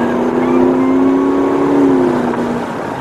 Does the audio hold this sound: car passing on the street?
yes